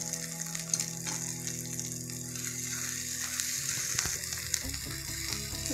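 Ground chana dal fries in hot oil with spice paste for a sandgya bhaji, a steady close sizzle with soft stirring clatter and a sharper crackle toward the end.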